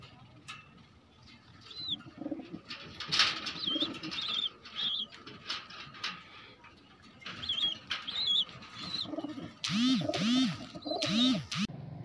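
Fancy pigeons in a loft flap their wings in repeated bursts, with soft cooing and shuffling between flurries and a cluster of loud wingbeats near the end.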